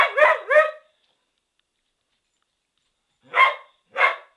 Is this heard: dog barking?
yes